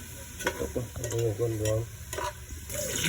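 Garlic sizzling in a hot pan while being stirred, with scraping utensil strokes over a steady fry hiss and a voice talking briefly at intervals.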